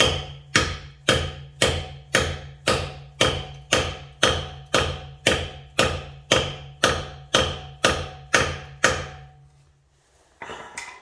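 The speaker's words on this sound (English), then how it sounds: "Hammer it on until it doesn't go anymore." Sharp metallic hammer blows drive a socket onto a Toyota or Lexus McGard wheel lock in a steady rhythm, about seventeen hits, close and loud, then stop, followed by a brief clatter.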